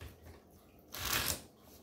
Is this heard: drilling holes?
no